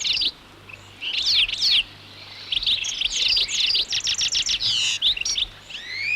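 Goldfinches give a constant tinkling call, bursts of bright twittering chirps repeating in quick runs with short pauses, close and clear over a quiet background.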